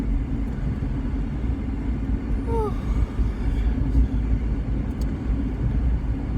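Car interior on back roads on a hot day, a steady low engine and road rumble droning throughout, with a faint brief squeak partway through and no talk.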